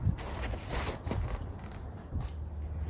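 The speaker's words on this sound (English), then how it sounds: "I'm gonna go ahead and zip it up so you can see what it looks like all the way closed" A zipper runs along the fabric of a bike storage tent as it is closed, giving a close, raspy scratching zip in a few uneven pulls.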